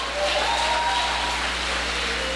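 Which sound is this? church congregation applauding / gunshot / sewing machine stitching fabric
church congregation applauding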